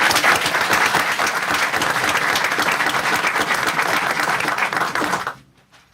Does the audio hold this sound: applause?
yes